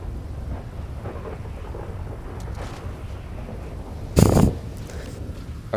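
Steady rain hisses on a yacht in GTA 5, with a sharp, loud thunderclap cracking partway through before the rain continues alone.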